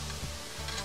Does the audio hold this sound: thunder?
no